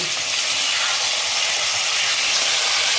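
Ginger paste hitting a hot pan while making shukto, giving a loud, continuous broadband sizzle-hiss that stays even throughout, with no talk.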